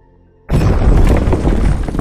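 The Chernobyl nuclear reactor blows apart, hurling its 1000-ton lid upward. After a half-second of near silence, a single sudden, loud, deep boom hits and roars on with crackling debris to the end.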